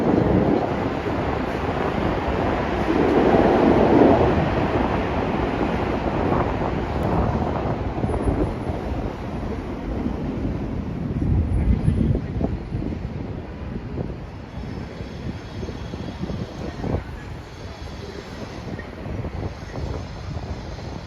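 Wind gusts buffet the microphone on 7th Avenue in New York City's Flatiron District on a January day, making a steady, loud low roar with rustling swells that runs the whole time with no talking.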